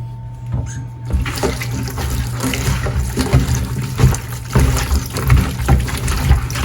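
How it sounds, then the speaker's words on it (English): Water splashes and gurgles steadily into a bowl of mutton, a continuous close pouring sound with small bubbling fluctuations. "So add water just to cover it."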